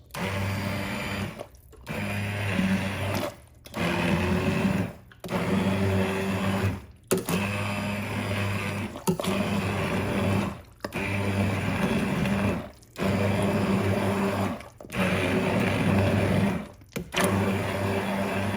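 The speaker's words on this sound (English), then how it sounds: "bring in the trusty immersion blender to break up these tomatoes" An immersion blender whirs loudly through tomatoes in repeated bursts of a second or two, separated by brief pauses, with a steady motor hum and churning liquid.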